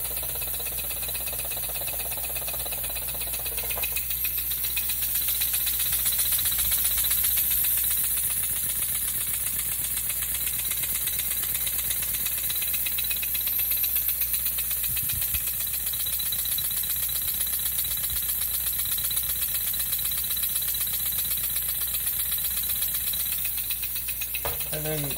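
A model steam engine from a flywheel kit runs steadily at a low throttle, giving a continuous light mechanical rattle with a soft hiss. Talk breaks in now and then.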